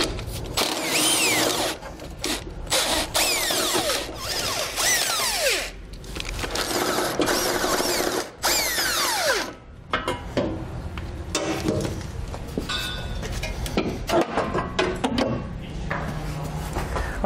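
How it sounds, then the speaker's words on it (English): Power tool and socket work removes the bumper beam nuts on a 2012 BMW X6 with an 18mm socket, in repeated loud whirring bursts broken by short pauses and ratcheting clicks. "Now we're going to do that by using an 18mm socket to remove the 4 nuts."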